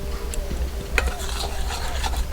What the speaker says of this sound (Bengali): প্রথমে শুকনো উপকরণগুলোকে ভালো করে মিশিয়ে নিচ্ছি